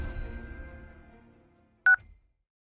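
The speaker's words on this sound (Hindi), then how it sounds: "कॉल कर इंस्पेक्टर साहब को।" A phone keypad gives one short, loud touch-tone beep while a number is dialed to call a police inspector. It follows fading background noise and is followed by silence.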